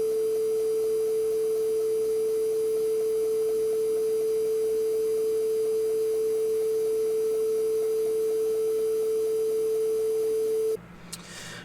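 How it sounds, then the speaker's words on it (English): A steady pure sine-like tone from a 45-year-old SWTPC 6809 computer, holding one even pitch for about ten seconds before it abruptly cuts off. "the first thing that we're going to take a look at here is the sine wave, and the sine wave is pretty basic"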